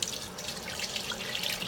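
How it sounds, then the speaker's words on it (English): Cold tap water runs steadily into a kitchen sink while a cold brew coffee filter is rinsed, a soft continuous splashing and trickling heard close and alone. "or I usually just rinse it in the sink."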